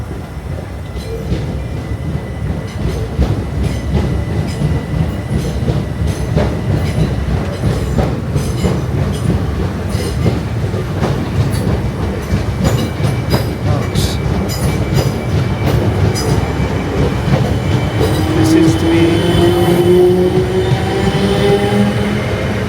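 A Christmas-themed Santa train rolls past on rails, a loud, steady rumble with rapid clickety-clack of wheels and rising squeals near the end, lasting the whole stretch with faint voices underneath.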